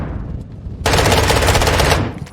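Automatic machine gun fire in Call of Duty Modern Warfare 2 erupts in a dense, loud burst of rapid shots lasting over a second, with no speech.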